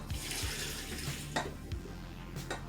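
Hot water pours and splashes into a bowl of muffin mix, a steady running flow broken by a few clinks and knocks of a utensil against the bowl, close up with no speech.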